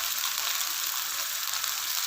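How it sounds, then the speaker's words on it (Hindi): Mutton koftas sizzling in oil in a pan, a dense, steady hiss of frying that carries evenly through the short stretch, close and loud with no talk. "अब इसकी मैं अच्छी सी बुनाई करूँगी।"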